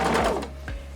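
A sewing machine back stitching over the thick part of a pillowcase sewn from a finished sheet, running slowly in one short burst of whirring stitches that fades, close and alone.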